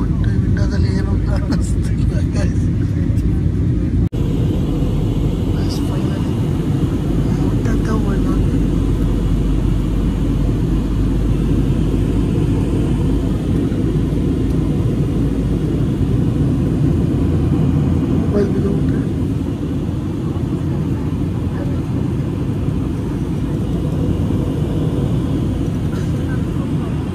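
An airliner's engines roar in a steady, heavy rumble heard from a window seat as the plane comes in to land in fog, with a brief clatter near the start and people talking over it.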